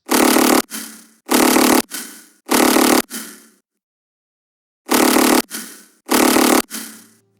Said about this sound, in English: What I am referring to as the main bass sound is this.